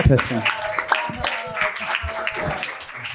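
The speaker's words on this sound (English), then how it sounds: "And another round of applause, Krista" Round of applause at the APAP NYC 2024 conference session, steady crowd clapping running the whole time with a voice speaking over it.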